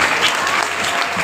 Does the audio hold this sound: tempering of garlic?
no